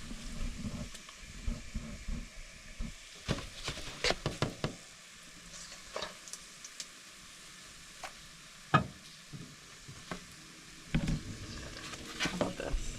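Bacon fries in a pan, a steady close sizzle and crackle running throughout, broken by sharp knocks and clatters of a utensil against the pan.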